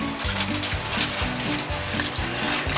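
Hot oil sizzles and spatters in a pan while beef pata fries for crispy pata, a steady close crackle with rhythmic low bubbling beneath.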